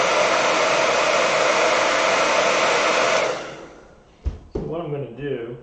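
A hair dryer blows over wet watercolor paint on a painting of a Christmas card, a loud steady whir for about three seconds that winds down, followed by a couple of clunks and then a person speaking.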